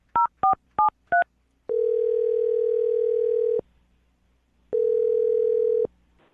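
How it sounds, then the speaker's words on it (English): A telephone being dialed: four quick two-tone keypad beeps, then two long steady tones separated by a short silence, crisp and close. "I'm going to dial his phone number right now."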